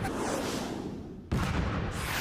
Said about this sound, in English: Sounds like a cannon.